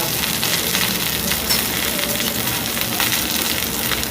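Thoothuvalai (Solanum trilobatum) leaves and tomato sautéing in sesame oil in a pan, giving a steady, close, dense sizzle and crackle that holds at an even level throughout.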